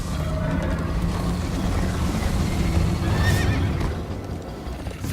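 A horse whinnies loudly over a dense, rumbling wash of hoofbeats and motion noise in the video game Minecraft: Story Mode, with no talking.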